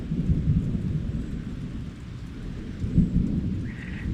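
Low thunder rumbles and rolls steadily through a rainy day, with rain falling around it. The rumble swells slightly near the end.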